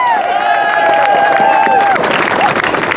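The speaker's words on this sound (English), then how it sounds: "Let's give them a round of applause." Crowd at a Women's March rally in Wooster, Ohio applauds and cheers for the march organizers, a dense steady wash of clapping with whoops and shouts mixed in, loud and continuous throughout.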